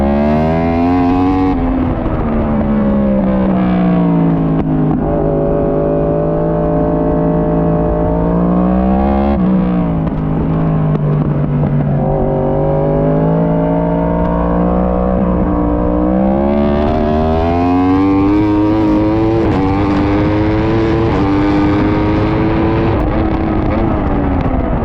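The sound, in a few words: motorcycle engine while racing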